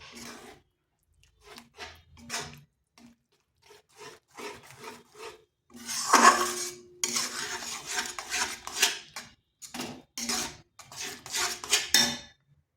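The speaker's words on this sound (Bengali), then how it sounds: "এরপর সমস্ত উপকরণ ভালো করে মিশিয়ে নিচ্ছি।" A spoon scrapes and stirs a thick batter of grated radish and rice flour in a bowl, a series of close, irregular rubbing and clinking strokes that come in short bursts and get busier partway through.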